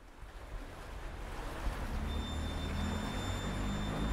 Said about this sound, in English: So this one is from the Quaking Bridge in Oxford.